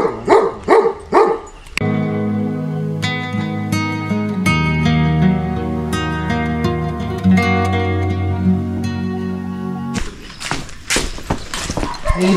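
A dog barks in a quick run of sharp, close barks at the start and again near the end, with a long tonal stretch resembling music in between.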